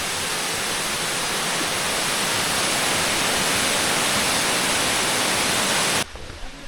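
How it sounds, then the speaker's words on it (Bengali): Elephant Falls in Cherrapunji, Meghalaya, roars as a steady, loud broadband rush of falling water, unbroken for six seconds before cutting to a quieter background. "এই দেখেন ঝর্ণার যে গর্জন শব্দ সেটা শোনা যাচ্ছে।"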